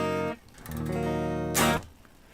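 Unplugged electric guitar through a Bare Knuckle Juggernaut neck pickup, played with no amp: a sustained ringing chord that drops out, then a second chord and a brighter strum, all close and fairly quiet.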